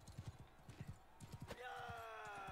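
A horse in the video game Mount & Blade II: Bannerlord trots with quick, rhythmic hoof clip-clops, then breaks into a loud, drawn-out whinny that carries to the end.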